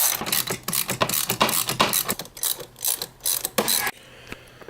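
A ratchet on the hose clamps of a Jetta's front-mount intercooler clicks in quick, close bursts of pawl ticks, pausing between strokes, then stops.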